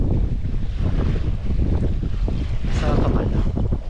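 Steady, loud wind roars across a sailboat under sail on the Mediterranean Sea, with rushing water and gusty buffeting on the microphone, unbroken for the whole stretch, and no voices.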